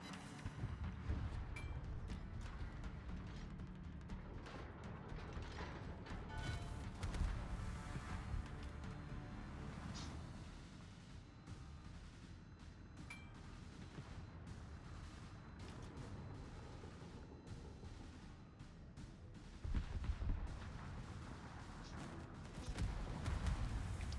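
Heavy warship guns boom repeatedly during a World of Warships naval battle, deep rumbling salvos rolling over a continuous low engine and sea drone, moderately loud with no talking.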